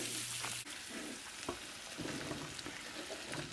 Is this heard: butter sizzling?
yes